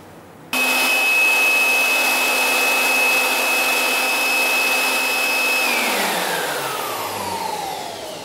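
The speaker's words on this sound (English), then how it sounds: "And then we press the compressor." An air compressor runs during a physics velocity experiment, switching on abruptly with a loud, steady whining roar and a high tone that holds, then falls away as it winds down near the end.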